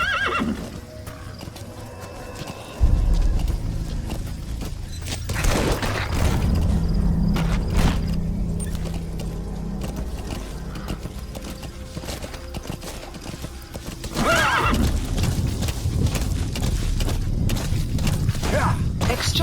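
Horse hooves clip-clopping at a gallop with a loud neigh in Metal Gear Solid V, close and continuous over outdoor ambience with creaking gear.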